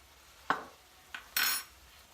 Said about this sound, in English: Give that a stir in